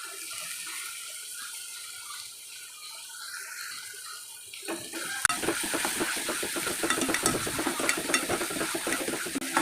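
Onion and tomato stir-frying in a pan with a chilli paste, a steady sizzle with scraping stirs that grows louder and busier midway, no voices.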